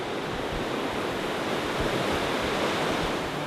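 A swollen stream in Galilee, running high after rainy-season downpours, rushes steadily. Its broad, unbroken roar stays loud and close, with no voices over it.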